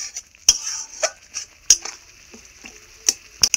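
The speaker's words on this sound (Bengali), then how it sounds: "এইভাবে একটা চামচের পেছন দিয়ে ঘষে ঘষে ছানাটাকে ভেঙে নিতে হচ্ছে।" A spoon scrapes and knocks against a bowl in quick, irregular clicks and rubs as fresh chhana is mashed with its back while making pineapple kalakand, close and fairly clear.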